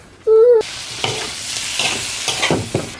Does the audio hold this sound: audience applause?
no